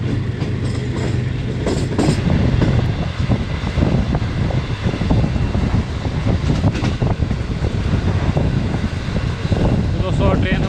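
Awam Express passenger train with a new rake rolls along the line between Peshawar and Rawalpindi: a loud, continuous rumble with rhythmic clickety-clack of wheels over rail joints, plus wind buffeting throughout.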